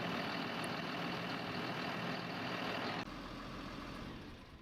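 In Farming Simulator 19, a Volvo R-100E dumper's engine idles as a constant, dense drone. It drops abruptly to a quieter, lower hum partway through, then fades slightly.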